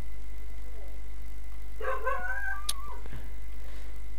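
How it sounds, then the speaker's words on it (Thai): A dog barks and yips in the video game Rust, a short burst of several close, sharp barks over a steady game background hum, with no talking. "กดให้มันโดนสิหมามันจะเห่าทำไมเนี่ย"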